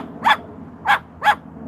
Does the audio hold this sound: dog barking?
yes